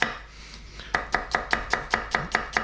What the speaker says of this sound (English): I like to slice this onion